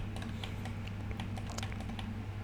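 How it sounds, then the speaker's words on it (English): A computer keyboard is being typed on, with a few key presses, including the numpad dot key, sounding as soft, close clicks at an irregular rhythm over a steady low hum. "we hit the dot key in our numpad"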